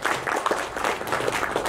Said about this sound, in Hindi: तालियां सभी की बजती रहे